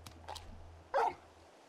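Torgal, the large wolf-like dog from the video game Final Fantasy XVI, gives a couple of soft yips followed by one louder, clear bark, close by and with no speech.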